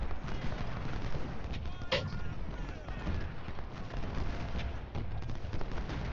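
Continuous muffled battle noise of artillery and massed musket gunfire in Ultimate General Civil War, a dense rumbling bed with scattered sharper reports and a brief cry standing out.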